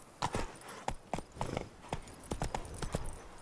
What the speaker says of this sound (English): That's it, Roach. Take it easy.